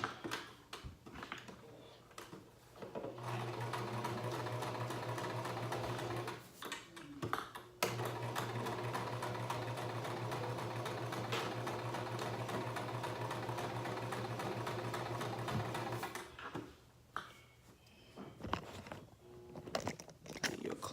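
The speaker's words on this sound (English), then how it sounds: "Take it to the sewing machine. Stitch it." Sewing machine stitching fabric in a back stitch then forward, a steady close mechanical whir with rapid ticking running for about thirteen seconds, bracketed by shorter handling noises and brief pauses at each end.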